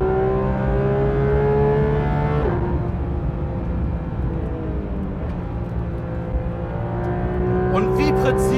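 A Porsche 911 GT3 RS (991.2) engine screams at high revs on the Nordschleife, loud and sustained from inside the cabin, with pitch changing as it shifts and accelerates.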